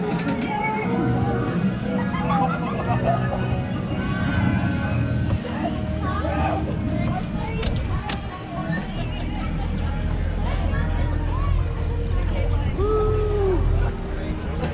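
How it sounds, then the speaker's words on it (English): A small motorboat at the Legoland Florida boating school, its low steady engine drone and water sloshing running throughout under nearby voices and crowd chatter. "Motorboat."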